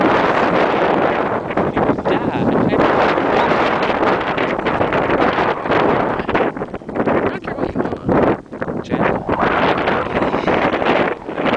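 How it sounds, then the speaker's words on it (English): Strong wind blowing across a remote campsite, roaring steadily into the microphone as loud buffeting noise that fills the whole stretch with only brief dips. "I don't know if you can hear me because the wind is kind of loud."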